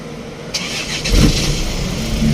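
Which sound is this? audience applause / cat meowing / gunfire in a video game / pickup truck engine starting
pickup truck engine starting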